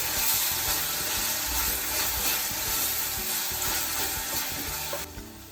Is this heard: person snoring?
no